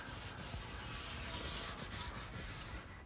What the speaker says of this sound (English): Now some final sanding with some 220 grit sandpaper, and this piece is ready for the finish.